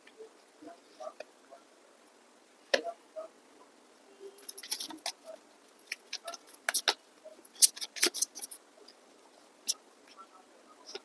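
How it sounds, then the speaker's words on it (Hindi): Tarot cards being drawn and laid out one after another for a reading: soft, close, papery flicks, slides and taps come in scattered bursts that cluster mid-clip, with quiet gaps between and no talk over them. "पहले मैं सारे कार्ड्स निकाल देती हूँ"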